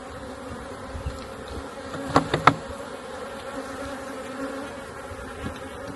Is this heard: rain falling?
no